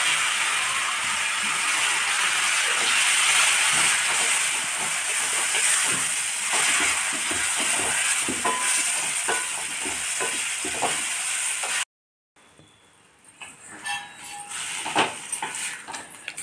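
Grated star gooseberries frying with spices in a pan, a steady loud sizzle and hiss with scraping stirs for most of the stretch, then a sudden break before quieter, intermittent sizzling resumes.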